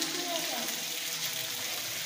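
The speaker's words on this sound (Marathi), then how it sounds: "पाणी वरतून कोसळत आहे." Water pouring down from the rock above inside the Pandav caves in Nashik, a continuous broad rushing splash that stays steady and moderately loud, with faint traces of voices behind it.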